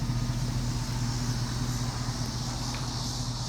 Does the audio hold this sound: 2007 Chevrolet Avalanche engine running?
yes